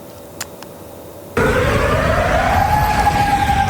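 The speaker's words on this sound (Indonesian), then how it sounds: "sirene peringatan berbunyi di kota Amman, Yordania" An air raid warning siren sounds over the city of Amman, Jordan, during a missile alert, starting abruptly and holding a loud, sustained wailing tone that climbs slowly in pitch over steady background noise.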